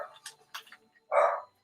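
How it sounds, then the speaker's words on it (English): A puppy gives a single strong bark after a few quieter sounds, sharp and close, standing out clearly above the faint background. "So we're getting a strong bark."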